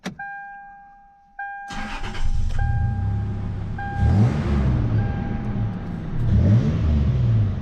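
A Toyota fitted with a cold air intake cranks over after a few warning chimes, catches and settles into a loud nearby idle with two strong revs rising and falling, the intake whoosh clear in each.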